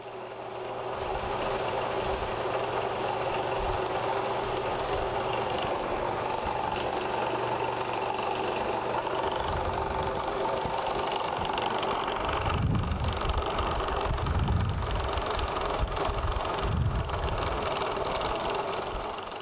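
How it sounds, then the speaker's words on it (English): A spinning buffing wheel polishes a guitar's finish, giving a steady, loud, broadband whirring roar with a low motor hum that runs unbroken through the whole stretch. "as I'm buffing, I'll recharge the wheel with buffing compound"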